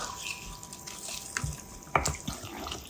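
Water pours into a pan of chicken rassa curry with a short splashing, trickling run and a few sharper drips, fairly close and without any talk.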